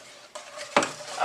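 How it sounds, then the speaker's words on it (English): Pecan pie filling is stirred in a pot on the stove, with a spoon scraping and clinking against the metal over a soft sizzling hiss, close and brief. "5 minutes of stirring and making sure it's nice and smooth and glossy and the sugar melted and everything's well combined."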